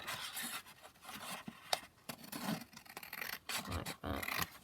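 Scissors snip and scrape through fabric and paper while a pocket is cut off a craft cluster, giving quiet, close, irregular cutting and rustling with no talking.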